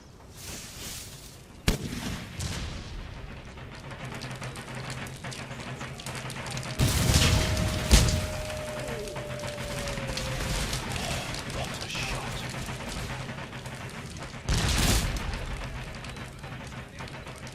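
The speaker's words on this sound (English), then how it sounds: "Come on, gentlemen. Let's have you firing here." Troops firing muskets in an Empire Total War battle for Stuttgart, with scattered distant volleys and sharp cracks over a constant battlefield rumble, and a voice speaking at times.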